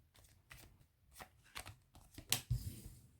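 Tarot cards shuffled and drawn during a reading, giving a few soft papery slaps and swishes at irregular intervals, close and fairly quiet, with one sharper snap near the end.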